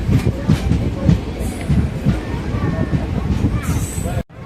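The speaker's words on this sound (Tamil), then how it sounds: "நாம் இப்போ அக்கரைப்பட்டிலேருந்து டிபார்ட் ஆகிட்டோம்" Madurai-Coimbatore passenger express train pulling out of Akkaraipatti station, a steady rumbling roll with rhythmic rail clatter throughout, loud and close from inside the carriage, with faint background chatter and a brief tonal whine near the end.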